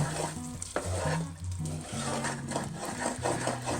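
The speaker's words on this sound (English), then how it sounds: "I'm going to add my 1/8 of a teaspoon of salt and my 1 teaspoon of vanilla. Stir that in." Caramel frosting stirred with a spoon after salt and vanilla go in, a steady close scraping and swishing in the pot that continues without pause, with a low mechanical hum beneath it.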